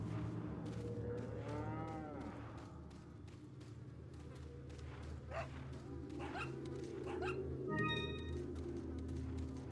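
Cows in the video game Resident Evil 4 moo in several drawn-out, rising calls, mixed with a dog's barks and yips against a low ambient game rumble, the calls spaced irregularly over the scene.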